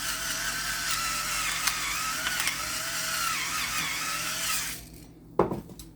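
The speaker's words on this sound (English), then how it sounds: "So I'm going to put some pepper." A pepper grinder cranks pepper over breakfast quesadilla fillings with a continuous close, dry gritty grinding that runs for about five seconds, then stops abruptly and ends with a single sharp knock.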